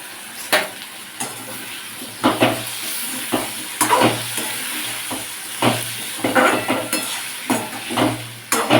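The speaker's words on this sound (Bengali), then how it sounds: "এই মশলাটাকে দিয়ে ভালো করে কষিয়ে নেব" Spice masala with tomato fries in a pan with a continuous sizzle, and a spoon stirs it in repeated close scraping strokes and occasional knocks against the pan.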